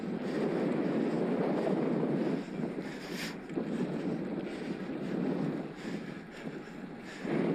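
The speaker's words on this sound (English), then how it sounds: "Oh, this is windy" Steady, roaring wind buffets the microphone while cycling into a headwind on a road bike ride to Buxton, a continuous low rush that swells and dips slightly without letting up.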